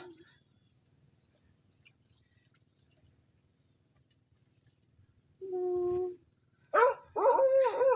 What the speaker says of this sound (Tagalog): Kada tawol din yung aso.